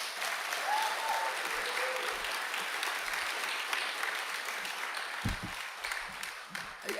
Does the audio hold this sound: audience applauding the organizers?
yes